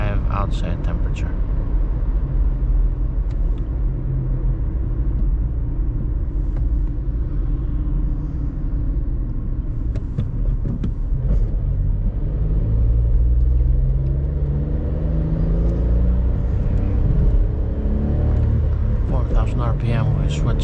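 A VW Up with a 1.0-litre 60 hp engine drives at night, its cabin filled with a steady low engine rumble and road noise. The pitch drops and climbs around a gear change, and a voice talks over it.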